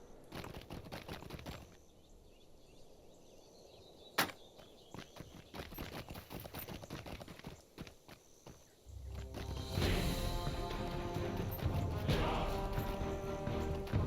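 Horse hooves trotting in The Lord of the Rings Online game, a steady rhythmic run of footfalls with a sharp knock near four seconds and a louder, denser ambience taking over in the second half.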